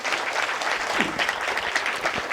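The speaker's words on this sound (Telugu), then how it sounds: "గట్టిగా చప్పట్లు కొడదాం మేడంకి" An audience at a talk on karma applauds someone speaker, with dense, steady clapping throughout and a faint voice briefly heard under it.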